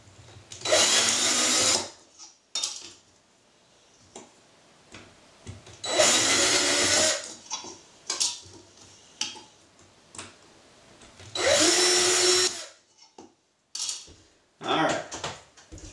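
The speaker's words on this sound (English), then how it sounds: "drill a hole in each lid" A power drill whirs in three short bursts a few seconds apart, drilling holes through jar lids, with light clicks and handling noises in between.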